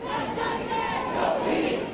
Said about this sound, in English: More than a week into the nationwide protests erupting on America's streets, the crowds don't appear to be subsiding